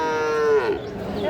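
Cattle at a busy livestock market moo in one long drawn-out call, fairly near, with a shorter rising call near the end, over a low murmur of crowd noise.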